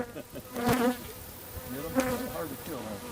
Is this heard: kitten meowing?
no